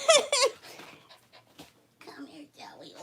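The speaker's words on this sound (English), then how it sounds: "Here's my doggie." Pet dog panting and whimpering close by, quick breathy pants and small whines with a person's voice mixed in, loud at first and then softer.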